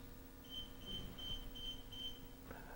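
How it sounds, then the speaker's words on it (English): Combination lock on a 2740 setup module giving a series of five short, evenly spaced electronic beeps at moderate level over a steady background hum, signalling a recovered code, followed by a brief click near the end. "The lock beeps to indicate that our combination has been successfully recovered"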